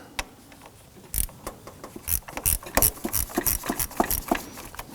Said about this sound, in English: Using a 10mm socket, loosen the nuts on the J-bolts.